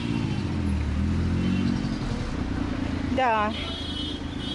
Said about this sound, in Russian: Движение сегодня всегда плотненькое, а сегодня еще более чем всегда